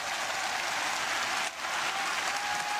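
A large arena crowd at a ONE Championship fight applauds the fighters after the bout, a dense, continuous clapping that stays loud throughout, with no break between claps.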